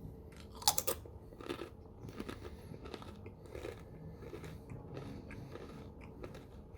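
Someone bites and chews crispy cinnamon apple chips close to the mic, with a sharp crunch at the start followed by quieter, irregular chewing crunches.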